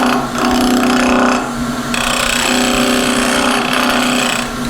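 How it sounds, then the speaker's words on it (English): Loud, continuous wood-turning noise as a spindle gouge lightly cuts a spinning resin-and-wood piece on a lathe, a steady scraping whir with a tonal hum, shifting in texture partway through. "I'm going to attack that with a spindle gouge, just lightly take that off"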